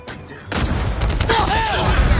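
Gunfire in Call of Duty Mobile arrives as a burst of rapid shots and booms after a quiet start, with a rising whistling tone layered in. A voice talks faintly underneath.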